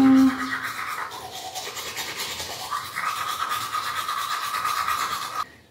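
Steady brushing with a toothbrush fills the clip, a continuous close scrubbing that pauses briefly and resumes, loud and near, with a faint voice underneath at times.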